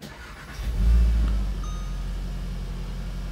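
A 2019 VW Golf R MK7.5 is restarted after coding work, its engine catching with a brief loud low surge that settles into a steady nearby idle.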